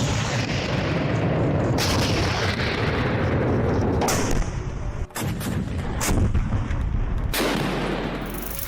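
German 88 flak gun artillery firing during the Second World War, dense rolling booms and repeated heavy blasts overlapping throughout, loud and continuous with a few sharp cracks standing out.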